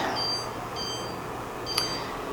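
A kitchen timer beeps a few short electronic tones while being set for sourdough bread baking in a hot oven, brief high chirps over a quiet kitchen room tone, with one sharper beep near the end.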